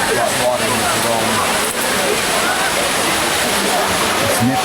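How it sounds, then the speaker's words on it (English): Water at the Trevi Fountain in Rome pours and splashes in a steady, loud, continuous rush, with faint voices in the background. "This is the Trevi Fountain, built in 1762."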